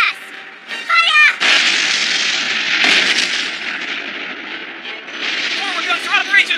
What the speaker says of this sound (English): Ready bow-mounted cannons to back us out full reverse! Fire!